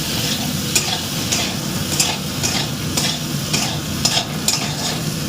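Taro (kochu mukhi) with salt and turmeric is stir-fried in a kadai: a loud, close sizzle with a regular rhythm of spatula scrapes against the pan, roughly twice a second.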